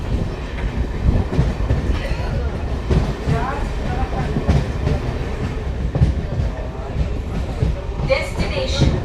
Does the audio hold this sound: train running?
yes